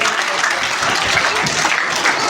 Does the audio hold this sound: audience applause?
yes